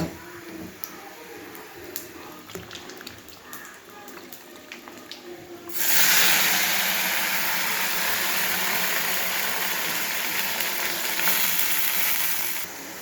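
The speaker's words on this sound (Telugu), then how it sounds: "చూడండి, మా స్టైల్ కాకరకాయ ఫ్రై చేయబోతున్నా." Bitter gourd fries noisily in a pan, a loud, steady broadband sizzle that bursts in partway through and holds to the end after a quieter stretch of faint kitchen sounds.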